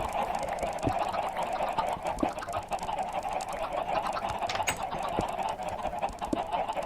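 Chickens cluck in a Minecraft hardcore survival world, a large flock kept together, their clucks a steady busy chatter with scattered sharp clicks throughout.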